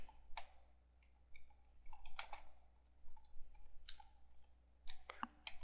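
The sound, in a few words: typing on computer keyboard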